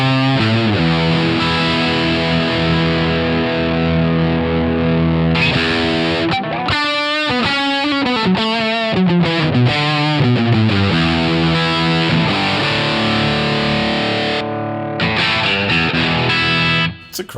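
A Strat-style electric guitar with single-coil pickups played through the Overloud TH-U amp plugin on a dirty clean tone, loud sustained chords ringing out, then a busier stretch of picked notes, then more held chords, with no talking.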